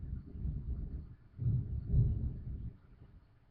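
Distant thunder during a thunderstorm: low, rolling rumbles that swell twice and then fade, muffled and steady, with no voices.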